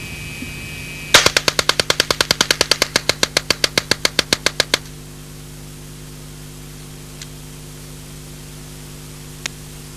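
A 1977 Alan Halla experimental low-recoil submachine gun firing one sustained burst of about thirty rapid, evenly spaced sharp reports over roughly four seconds, then near silence with two faint isolated clicks under a steady hum.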